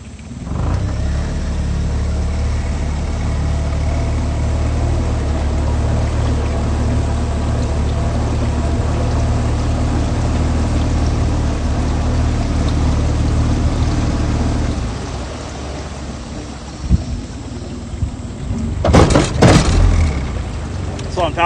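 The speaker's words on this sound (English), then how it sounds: "If you hear my motor bunching and crunching, it's them submerged logs eating them up." An outboard boat motor runs steadily on the Edisto River for a long stretch, a loud, even drone that then drops away, followed by scattered knocks and splashy bursts near the end.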